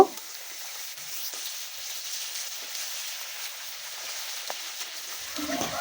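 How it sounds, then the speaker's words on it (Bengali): Fish pieces frying in hot oil on a clay stove, a steady soft broadband sizzle running throughout at moderate level, with a few faint clicks and a brief stir near the end. "তেল যখন পুরো হিট হয়েছে তখন আমি একে একে মাছগুলো সব দিয়ে দিচ্ছি"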